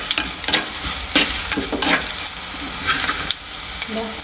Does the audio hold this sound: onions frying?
yes